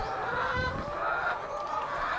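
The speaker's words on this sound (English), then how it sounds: "We have about 350 chickens, half of them being here" A large flock of chickens on a farm clucks and murmurs continuously, a dense, close chorus of overlapping calls with no talk.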